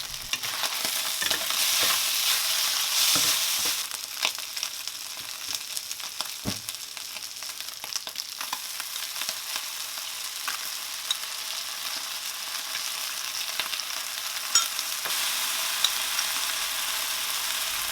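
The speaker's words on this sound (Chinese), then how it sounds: "倒入过油的鳝丝，快速的滑炒。" Eel shreds, already passed through hot oil, tossed in a wok with scallion and ginger, giving a steady close sizzle broken by scraping spatula strokes and clanks across the pan, loudest in the opening seconds.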